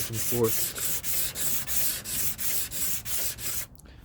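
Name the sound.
sanding with sandpaper wrapped around a wood block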